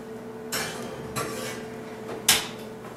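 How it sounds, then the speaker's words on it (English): Oven door handled as English muffins go in, three separate metallic clanks over a faint steady hum, the last one the loudest and sharpest. "Okay, so I'm just going to put those in the oven."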